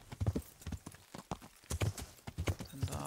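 Horse hooves clip-clop steadily and close up during riding in Kingdom Come: Deliverance, a medieval role-playing game, with a quick regular rhythm and an occasional faint snort.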